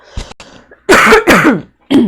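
A person clears their throat several times in quick, rough bursts, close and loud, with short pauses between them.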